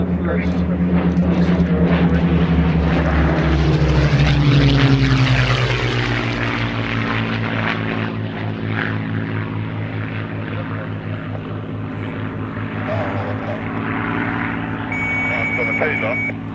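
A Gloster Gladiator biplane's propeller engine roars close by as it lands, its pitch sliding down as the plane passes and rolls out, settling into a steady droning idle.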